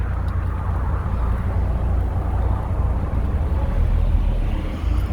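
Turbo diesel 1984 Mercedes-Benz 300 TD being driven around the block, a steady low engine drone and road rumble filling the whole stretch with no talk over it.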